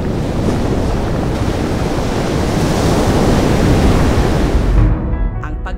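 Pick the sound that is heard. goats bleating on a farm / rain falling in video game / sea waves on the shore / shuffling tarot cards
sea waves on the shore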